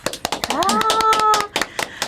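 Scattered hand claps from a small audience follow a student's speech at a Yeongju dance contest event, sharp uneven strikes over about two seconds, with a brief sliding tonal vocal sound in the middle.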